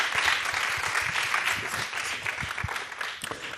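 An audience applauds panel speakers at a roundtable on dissent in China, a steady, moderately distant patter of many hands clapping throughout, with no one talking over it.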